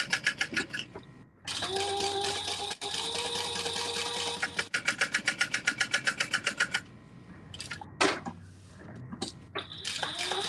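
A sewing machine stitches three fabric edges an eighth of an inch in for a doll-sized wallet. It whirs in sustained runs and then in pulsing bursts, close and fairly loud, with brief pauses and handling noises between stretches.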